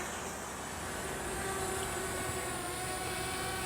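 A Contixo F31 pocket GPS drone lifts off, its small motors giving a steady, high, whining buzz that holds evenly throughout, close and fairly loud with no talking.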